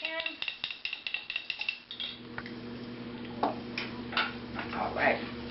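A spoon stirring juice in a cooking pot gives quick, rhythmic clinks for about two seconds. A voice then talks over a low, steady hum.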